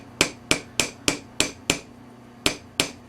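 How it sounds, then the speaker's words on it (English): A metal hammer strikes a wire earring hoop to flatten it on a hard block. Eight sharp, bright, ringing taps come close and clear at an uneven, roughly half-second pace, with one longer pause before the last two. "I like to hammer it out"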